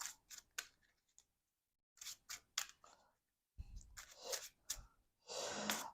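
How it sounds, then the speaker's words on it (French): A deck of cards is shuffled during a card game, producing quick riffling bursts and soft card slaps in separated clusters, close and fairly quiet, with gaps of silence between. "Mélanger le deck rencontre."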